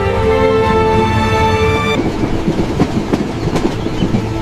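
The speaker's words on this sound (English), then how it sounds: "The train from Paris rattled southward through the French countryside." A train rolls along the rails, a sustained tonal hum giving way to rhythmic clickety-clack wheel beats over a steady rumble, close and fairly loud with no voices.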